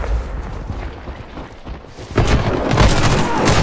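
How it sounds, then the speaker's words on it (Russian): Grenade blast in the shooter game Warface, a heavy boom erupting about two seconds in with loud rumbling debris after a quieter stretch of gunfire and noise; a voice calls out beforehand. "Кидаю гранату!"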